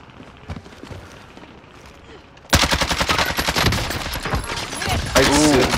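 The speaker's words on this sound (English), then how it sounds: "There's a team sniping right here" Gunfire in Call of Duty: Modern Warfare, a quiet stretch giving way to loud, close rapid shots that keep cracking for several seconds, with a voice briefly heard near the end.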